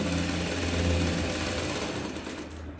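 A sewing machine runs steadily, topstitching the lining of a vest, its motor humming as a continuous close, even drone with no voices.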